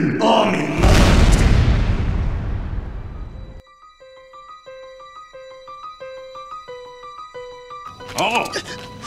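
A big booming explosion in Team Fortress 2 bursts loud and close, then rumbles away into a short run of plinking tones, with another burst of noise near the end.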